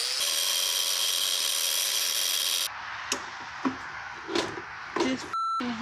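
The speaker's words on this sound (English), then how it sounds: "Just hammering." A steady tool whine stops, and then a hammer strikes a Reese trailer winch mount several times at irregular intervals. The blows are sharp, close and metallic, with short pauses between them and no talking.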